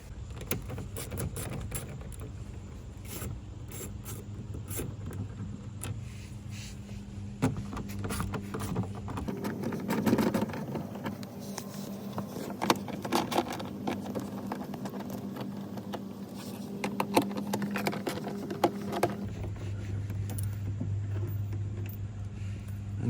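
Bolts are unscrewed by hand from the rear diffuser of a 2015-2023 Dodge Charger, giving a run of small irregular metallic clicks and ratcheting taps, close and fairly quiet over a soft background hum.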